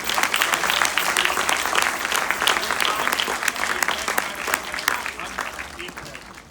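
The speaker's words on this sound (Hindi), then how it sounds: "एक बार फिर से जोरदार तालियां" Applause from the audience at a Naturopathy Day celebration: many hands clapping with distinct sharp claps, strong at first and gradually thinning and fading toward the end.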